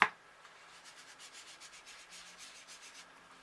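An ink blending tool rubs Sahara Sand ink onto card stock for a Stampin' Up! card, giving a soft, fast, rhythmic scrubbing with repeated short strokes, close and fairly quiet, with no talking.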